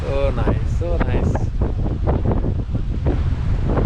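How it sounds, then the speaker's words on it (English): Wind off Lake Lanier buffets the microphone in strong, continuous low rumbles, with a voice speaking briefly at the start over the gusts. "It's so good to be beside the river with the breeze."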